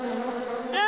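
Bees buzzing loudly and close, a dense droning hum that rises in pitch and intensity toward the end, with no speech over it.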